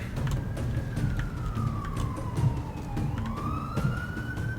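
Siren in Total War: Warhammer, a single wailing tone sliding slowly down then rising again, heard steadily over dense battle noise and low rumbling throughout, with no talk.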